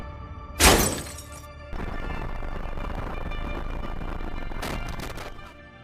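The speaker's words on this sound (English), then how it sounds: "a turkey can suddenly crash into a windshield, shattering the glass and blocking the driver's vision" A turkey slams into a car windshield. One sharp, loud smash of shattering glass is followed by steady road and engine rumble, then a second, rougher crackle of breaking glass comes near the end.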